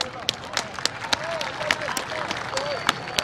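A crowd at a kabaddi match in Chung, Lahore claps in scattered bursts of sharp hand claps, with people talking underneath.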